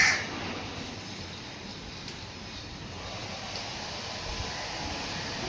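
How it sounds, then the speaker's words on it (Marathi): Crows cawing outdoors while house plants are being cut and cleaned. Faint, distant caws sit over a steady broadband hiss and low rumble like a passing aircraft. "कावळ्यांनो, तुम्हाला काही द्यायला आणलेलं नाहीये, वाच काव करू नका."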